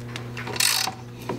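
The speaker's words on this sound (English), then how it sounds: "You're going to take an 18 millimeter box wrench, an 18 millimeter socket, and you're going to remove this bolt." An 18 mm box wrench and socket work a bolt on the rear wheel carrier of a BMW E39, giving a few close metallic ratcheting clicks and one brief scraping burst over a steady low hum.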